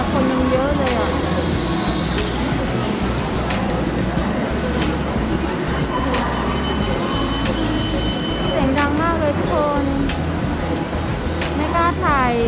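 Crowded underground metro platform in Rome in the morning, with a continuous roar of trains and traffic, squealing wheels and high-pitched tones, and someone talking over the busy noise.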